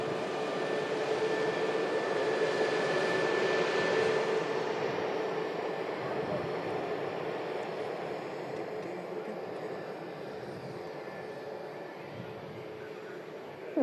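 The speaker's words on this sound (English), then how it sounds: "The Virgin Atlantic 350 making its way over to the second runway as well." Virgin Atlantic Airbus A350 jet taxiing toward the second runway, a steady broad roar with a thin whine, fairly distant and fading slightly over time.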